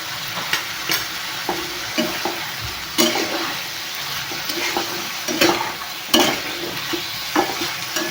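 Paneer curry sizzling in a pan while being stirred, a constant hiss of frying broken by regular scraping strokes of the spoon, close and clear with no talking.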